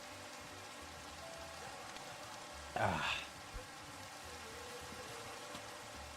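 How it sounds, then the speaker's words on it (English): Steady rain falling in the Minecraft video game, a soft, even hiss throughout, with a brief exclamation from a voice partway through. "Now I can sleep and finally get rid of this god-awful rain."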